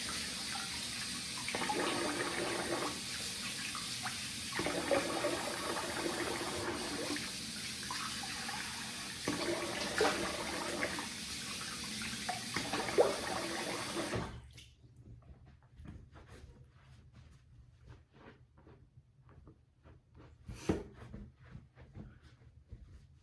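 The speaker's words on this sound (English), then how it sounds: "I'm gonna rinse the face and we'll get to the post." Tap water runs steadily into a sink as a face is rinsed after a wet shave, a close rushing flow broken by rhythmic splashes, then the water cuts off and only quiet bathroom handling noises remain.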